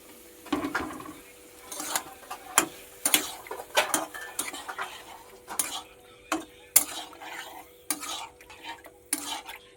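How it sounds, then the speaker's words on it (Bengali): Ash gourd pieces are stirred into a mustard masala in a pan, giving irregular clacks and scrapes of a spoon against metal, close and sharp, with quiet gaps between strokes and no speech. "এবার আমি এখানে চাল কুমড়োটা দিয়ে দেবো।"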